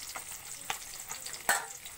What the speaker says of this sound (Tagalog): Luto tayo ng tinapa